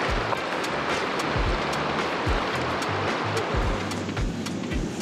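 Fast river current rushing over boulders while steelhead fishing, a steady broadband roar of turbulent water close by, continuous throughout with occasional low thumps, no voices.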